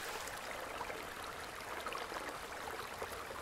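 A waterfall pours in a steady, even rush of water that holds at a constant level, with no voices.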